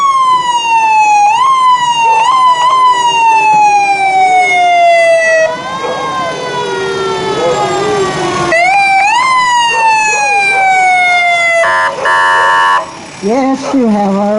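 Emergency vehicle sirens from fire rigs at a town parade: loud, close wailing sirens sweeping up and down, overlapping one another, with a blaring horn burst near the end.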